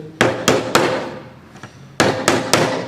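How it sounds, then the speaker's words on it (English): Six crisp hammer taps close by, in two quick groups of three, with a faint knock in between, driving brads into a wooden model railway platform. "quick tap with the hammer"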